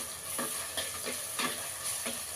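Onions fry with ginger garlic paste in a clay pot, giving a steady bright sizzle broken by several soft scraping stirs, close and fairly loud with no voices.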